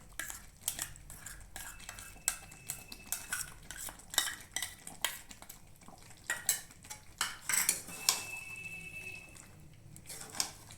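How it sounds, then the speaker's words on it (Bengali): Utensils scrape and clink against a pan as cashew and raisin paste is stirred into cooked chicken curry, giving a busy, irregular run of close metallic taps and scrapes throughout. "এবার কাজু বাদাম আর কিশমিশ বাটাটা দিয়ে দিচ্ছি।"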